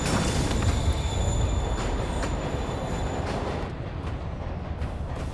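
A moving train in the Marvel's Spider-Man Remastered video game rumbles loudly and steadily, with a constant low roar of rolling wagons and faint high squealing tones that ease off toward the end.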